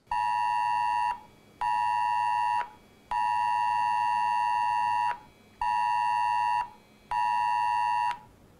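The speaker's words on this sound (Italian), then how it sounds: "abbiamo visto che uno dei tre telefoni è suonato per primo" Several mobile phones sound an emergency alert system test, a loud harmonic electronic tone pulsing in five long bursts with short gaps, clear and close with no talking.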